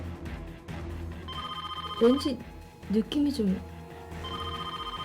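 A telephone bell rings in a Korean reality drama, with spoken voices interrupting and overlapping the rings.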